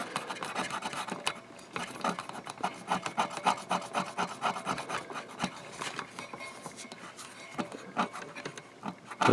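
A Q-tip scrubs corrosion off the jumpers of a Harman Kardon PM645 integrated amplifier, a close, dry rhythmic scratching made of many quick back-and-forth strokes with no pause.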